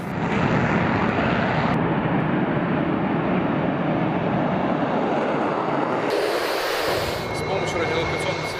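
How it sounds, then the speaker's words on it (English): A Russian Su-35 fighter jet roars steadily with dense broadband engine noise during joint military drills, loud and continuous throughout, with a brighter high hiss toward the end. "Russian fighter Su-35 intercepted a hypothetical enemy and forced it to land on the Belarusian airfield."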